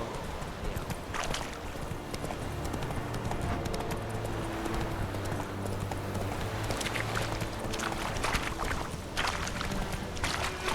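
Horse hooves galloping in The Witcher 3, a steady rapid clip-clop rhythm running throughout at close range over continuous game ambience, with faint wind and water-like background noise.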